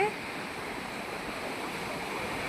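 Sea waves at Kanyakumari beach make a steady broadband wash of surf, close and continuous, with wind noise on the microphone.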